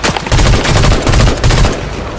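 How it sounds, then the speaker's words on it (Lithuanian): Rapid bursts of Fortnite gunfire, several loud volleys in quick succession with short gaps between them, fading slightly at the end. "Ok, tai į mane šaudo."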